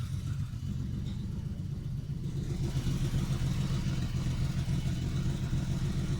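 A BMW E32 six-cylinder engine idles just after an injector rebuild, giving a steady low rumble that grows slightly louder partway through and continues without talk.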